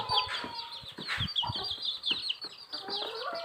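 Young native chicks chirp and peep in high, overlapping calls, close by and continuous, mixed with soft clucks and scuffling from the flock.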